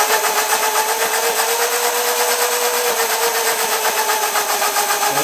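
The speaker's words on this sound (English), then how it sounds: "Loudest electric motors I've ever heard." Electric motors on a hybrid electric two-stroke scooter whine loudly and steadily, a high, close, continuous mechanical hum with a slight rapid flutter throughout.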